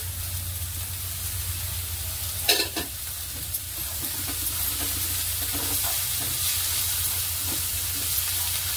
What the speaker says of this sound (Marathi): तर कांदा भाजताना आपण थोडंसं तेल टाकूया, म्हणजे कांदा पटकन भाजला जाईल